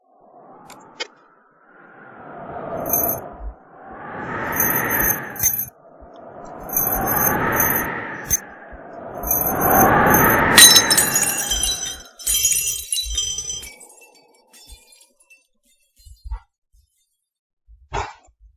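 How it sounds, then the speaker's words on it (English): A falling glass in a rendered animation of it breaking into pieces: several swelling whooshes build in loudness before a bright crash of shattering glass, followed by scattered small tinkling fragments that fade into near silence. "then finally it gives up and then it breaks into pieces"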